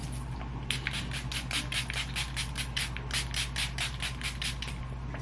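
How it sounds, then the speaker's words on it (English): Rapid series of short hissing bursts from a makeup setting spray, about a dozen evenly spaced pumps, close and fairly loud over a low background hum. "get some setting spray that I got from the beauty supply"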